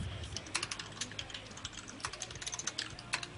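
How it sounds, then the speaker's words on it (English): Someone types on a computer keyboard during an esports match, with quick irregular clicks and a few louder key strikes, faint and close, over a low background hum. "Who's typing?"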